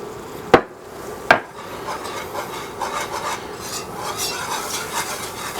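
Flour being stirred into bacon grease and butter in a pot for loaded potato soup: two sharp knocks at the start, then a steady soft rasping and scraping of the spoon with a faint sizzle underneath.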